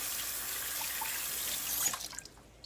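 Hands washed under a running kitchen sink faucet while preparing meatloaf and mashed potatoes, a soft, steady stream of water that cuts off near the end, leaving a few faint drips.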